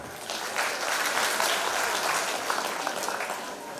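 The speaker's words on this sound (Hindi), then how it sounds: "रघुवंशी परिवार के लिए जोरदार तालियां" Loud, dense applause from the audience at a school annual function's 25th anniversary celebration, a continuous roar of many hands clapping for nearly four seconds.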